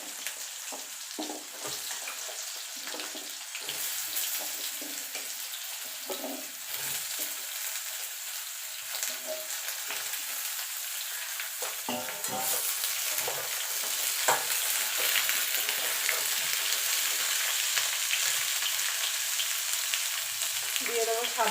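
Ridge gourd tossed into hot oil tempered with dried red chilli and nigella seeds, giving a continuous close sizzle and crackle that swells slightly partway through, with occasional stirring scrapes.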